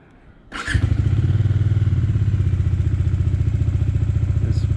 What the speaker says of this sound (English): I love the exhaust of this Dominar. I'll show you how it sounds in the morning.